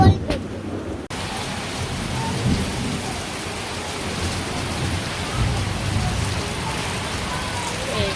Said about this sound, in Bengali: রাতের বেলা বৃষ্টি নামছে